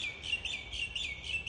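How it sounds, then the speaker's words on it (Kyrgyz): Small birds chirping at home, repeated bright high tweets in quick regular bursts, fairly close against a quiet background. "үйдө сайрап аткан чымчыктар"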